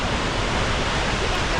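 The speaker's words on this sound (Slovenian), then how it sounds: "To je zdaj tale najvišji italijanski slap," Cascata delle Marmore, Italy's tallest waterfall, in full flow on a sunny day in the Apennines: a steady, loud, broadband roar of crashing water with no break and no voices.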